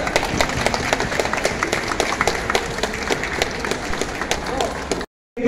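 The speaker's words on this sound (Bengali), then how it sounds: "জোরদার তালি" An audience at a 95th birth anniversary commemoration gives loud, steady applause with sharp individual claps running throughout, then cuts off abruptly.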